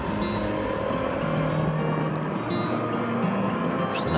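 A Duke 200 motorcycle runs fast down a straight, its engine a loud, steady drone whose pitch shifts and climbs as it pulls, with road and wind noise throughout.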